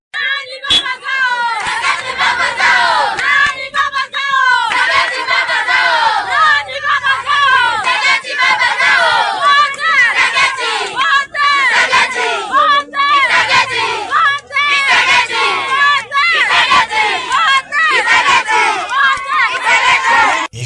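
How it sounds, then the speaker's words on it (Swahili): Residents of Sange crowd together singing and cheering, a dense, continuous wall of many voices with shouts and chanting, loud and close throughout. "Hizo ni nyimbo na shangwe za raia wakazi wa Sange"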